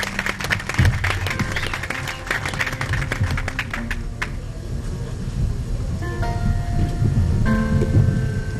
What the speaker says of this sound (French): Pouvons-nous applaudir pour Bambi Kashila pendant qu'elle s'avance?